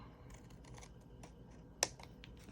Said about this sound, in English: I'm going to grab my thick bladed scissors, and we're going to get rid of this piece up here